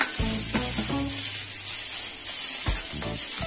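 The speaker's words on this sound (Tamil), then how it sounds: "இப்போ இது நல்லா ஃப்ரை பண்ணுவோம்" Egg and masala fry in a pan with a loud, continuous sizzle, and a few bursts of spatula stirring near the start and again toward the end.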